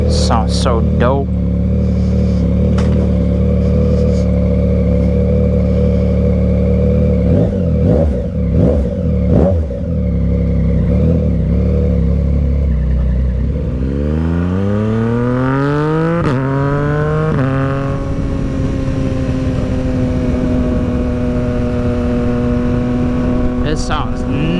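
A 2022 Yamaha MT-09 motorcycle fitted with a Dominator GP3 exhaust idles loudly up close, then revs hard with rising engine pitch before settling into a steady, aggressive drone, with voices talking over it.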